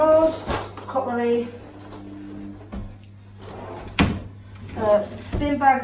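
A kitchen drawer of cutlery in a flat slides open and shut a few times, with sharp knocks and rattles between quieter stretches while someone talks nearby.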